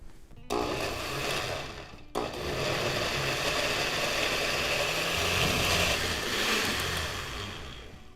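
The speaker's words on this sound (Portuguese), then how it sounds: "eu vou ligar o liquidificador e bater muito bem esses 3 ingredientes" A blender whirs loudly, stopping briefly twice near the start, then grinds steadily with rattling chunks of raw carrot churning inside.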